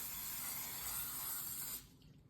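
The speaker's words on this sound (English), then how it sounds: "Apply cooking spray on the top." A steady, close hiss of cooking spray from an aerosol can lasting nearly two seconds, then cutting off abruptly into quiet.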